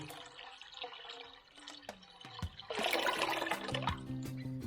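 Cold water pours steadily into a pot for soup, a broad splashing rush that builds and fills the space, with small clinks and knocks of cookware nearby.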